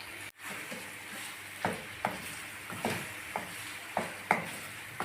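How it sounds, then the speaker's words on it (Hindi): Chicken frying in a pan with red chilli, turmeric and salt gives a steady close sizzle, broken by a run of soft stirring scrapes that come every half second or so. "जब तक यह चिकन फ्राई हो जाता है"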